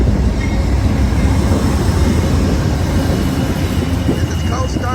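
Amtrak P42 locomotives on the Coast Starlight, train 11, roll into Oakland Jack London Square with a loud, steady rumble and rail noise close by, and a voice talks over it.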